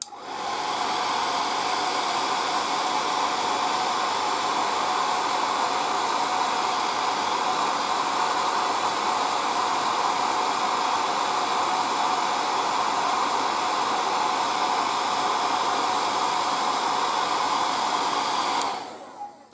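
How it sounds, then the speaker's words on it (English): A hair dryer blows steadily at close range over freshly painted surfaces of a 1:35 scale M3 Lee tank turret model, a loud, even whooshing hiss, running continuously before cutting off at the very end. "Now let's grab the hair dryer."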